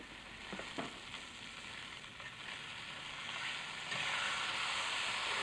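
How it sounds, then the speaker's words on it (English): Veal escalopes frying in a pan, a steady low sizzle and hiss throughout, with a few soft clinks early on and the sizzle growing slightly louder near the end; no one speaks. "Turning them now stops the upper surface from being moistened by the juices of the meat"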